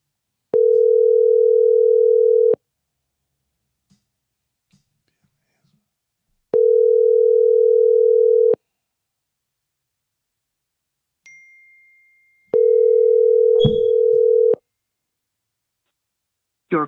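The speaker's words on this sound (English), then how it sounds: "I'm finna call Doug." An outgoing phone call's ringback tone sounds three times: loud, steady two-second beeps separated by about four seconds of silence, with faint rustles and a brief ding near the third ring.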